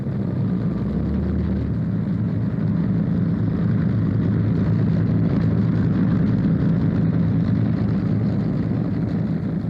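A 1949 Lockheed Constellation four-engine airliner with radial engines taxis past at London Airport, giving a loud, steady, low rumbling drone that stays continuous and fairly close throughout.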